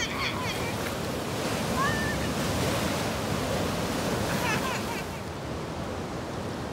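Ocean waves crash and wash over the end of a walkway in a steady roar of surf, with a brief high bird call and faint voices partly buried in the noise.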